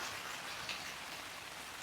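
Heavy rain pours steadily at a daytime campsite in wind, a dense even hiss of drops on surfaces with no voices, close and constant throughout.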